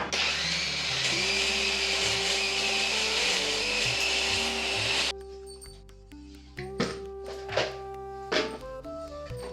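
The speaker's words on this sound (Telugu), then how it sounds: "ఇది మిక్సీ పట్టేసుకుంటాను." A mixer grinder grinding ripe red chillies, tamarind and salt whirs loudly for about five seconds, then stops, followed by a few clunks and knocks as the jar is handled.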